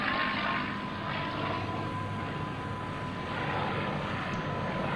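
A P-51C Mustang fighter plane drones overhead at an airshow, its steady propeller-engine roar holding fairly level and somewhat distant for the whole stretch, with no one talking.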